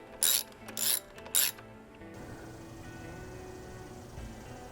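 Ratchet clicking as a bolt is run in finger tight on the front wheel of a Kawasaki Z900 during a tire change; three short, loud bursts of rapid clicks close by, then quiet.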